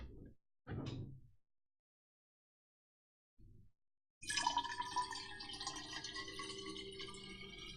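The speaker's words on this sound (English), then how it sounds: "I'm pouring water." Water pours from a Brita pitcher in a quiet office, a faint steady trickle running for several seconds after a few soft knocks and clinks.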